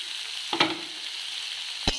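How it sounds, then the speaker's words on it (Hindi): Chopped onion deep frying with a little salt over low heat for aloo paratha, a soft steady sizzle broken by two sharp scrapes of a stirring spoon. "प्याज, इसको भी हम धीमी आंच से डीप फ्राई कर लेंगे।"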